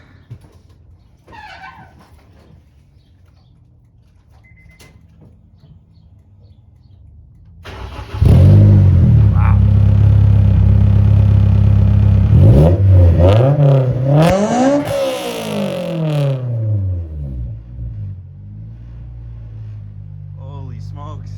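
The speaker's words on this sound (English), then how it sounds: "We got to hear that exhaust." An S2000 sports car starts up after a quiet stretch with a few voices, then its exhaust roars, revving hard to about 9,000 RPM in sharp rising and falling sweeps, loud and close, before settling back.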